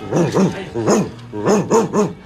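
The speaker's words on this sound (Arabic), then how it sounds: "كلبي يعوي" Dog howling in an Arabic radio drama about the People of the Cave, a series of rising and falling harmonic wails repeated about six times, loud and close, with no speech over it.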